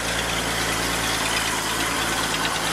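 A 1986 Ford F150 pickup engine runs steadily outdoors, a constant low rumble with even mechanical vibration throughout.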